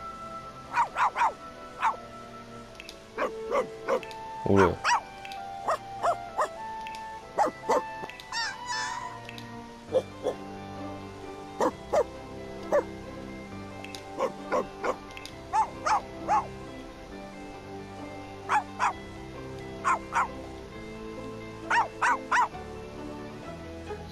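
Adult dog in The Sims 4 video game giving short, repeated barks and whimpers in bursts, close and clear over a steady game music bed, with a brief spoken word.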